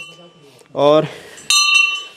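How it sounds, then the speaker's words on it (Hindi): A metal temple bell rings inside a cave temple dedicated to Shiva, two bright clanging strikes with sustained ringing overtones, close and loud, with a voice briefly speaking over them. "घंटी आपको सुनाई दे रही होगी।"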